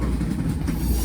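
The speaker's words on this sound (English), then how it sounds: "It's a frickin' AC-44." GE AC44 locomotive-hauled train rolling past close by, a dense continuous rumble with rattling wheel and car noise throughout the short stretch.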